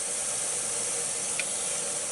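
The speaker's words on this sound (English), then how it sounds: "now it's starting to get some steam coming up out of it now" Steady steam hiss rising from an Instant Pot as it builds pressure, a continuous broad whoosh that stays even throughout, with no speech.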